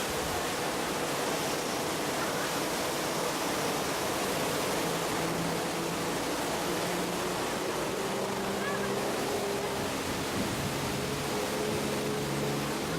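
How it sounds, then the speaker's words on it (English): A heavy, constant rush of water pours down on a Universal Studios Hollywood studio tour tram ride, a dense roaring wash of noise that stays loud throughout with no pauses. "There's a lot of water coming down here."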